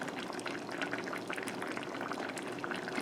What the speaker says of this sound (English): I'm gonna pour it in.